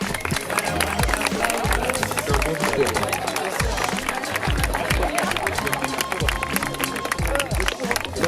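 Outdoor crowd applauding the FAT 2017 teams at Rochecorbon, steady clapping mixed with cheering and chatter, loud and sustained while someone speaks over it.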